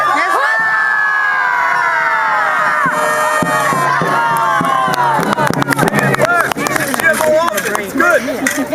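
A crowd audience at a lively stage show cheering and whooping loudly, rising into clapping and shouting, with a voice speaking over the noise.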